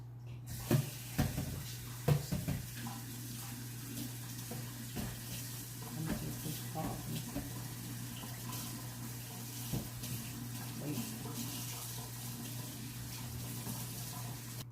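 A stainless steel pot is rinsed under a running kitchen faucet, with a steady hiss of water and occasional clanks and splashes as the pot is handled, close and continuous, no talking.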